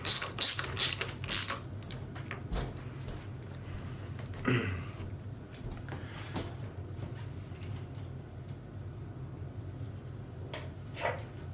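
Bolts being tightened on a clutch and front brake lever of a 2022 Yamaha YZ450F: a few sharp ratcheting clicks at the start, then scattered faint mechanical ticks over a low hum.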